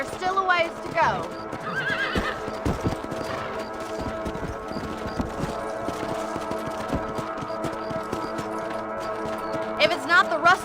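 Steady clip-clop of horse hooves with a couple of loud whinnies in Red Dead Redemption, under game music and background voices.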